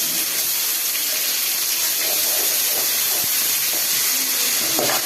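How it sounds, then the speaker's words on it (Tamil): Ginger garlic paste fries in a pan of hot oil in a Tamil chicken gravy kitchen, giving a loud, continuous broadband sizzle and hiss with small crackles throughout. "இப்போ நம்ம இஞ்சி பூண்டு பேஸ்ட் போட்டுக்கலாம்."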